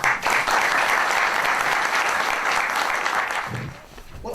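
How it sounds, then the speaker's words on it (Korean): Seminar audience applauds to welcome speakers: a loud, dense round of clapping that holds steady, then thins and fades near the end. "박수로 환영해 주시기 바랍니다"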